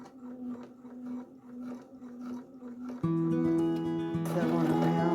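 A sewing machine stitches around the side hem of jeans with a longer stitch, a soft rhythmic whirring of repeated pulses that turns into a louder, steadier mechanical drone with higher tones layered over it.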